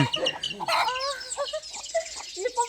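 A hen clucks in short, rapid bursts close by, with a few higher squawky notes mixed in.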